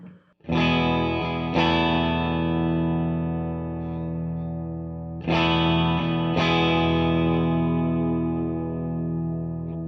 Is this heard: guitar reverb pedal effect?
yes